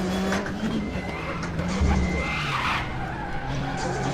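Tyres skidding and squealing on a Volvo 240T in the RaceRoom racing game at Mantorp, a loud continuous screech over steady engine roar with no breaks.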